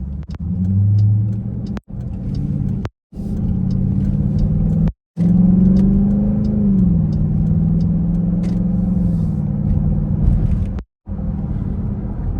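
A Dodge Durango drives through traffic with a steady low engine rumble and road noise inside the cabin, the engine pitch rising and falling as it accelerates, broken by a few brief dropouts, with no talking.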